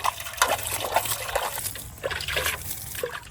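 Water poured over garden plants, leafy greens such as spinach treated with urea, comes as soft intermittent splashes and trickles in short bursts, fairly close by.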